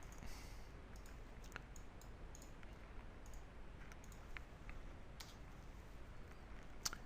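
Sparse, faint mouse and keyboard clicks on a computer while a command line is copied and pasted, scattered irregular ticks over a quiet, low background hum.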